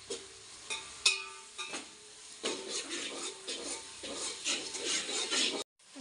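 Whole spices are sautéed in hot oil for chicken dum biryani, with a soft sizzle under repeated scraping and stirring strokes of a spoon against the pan, close and moderately loud.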